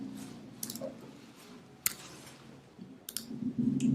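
A computer keyboard clicks in a few short, quiet bursts of keystrokes, spaced irregularly over a faint background hum.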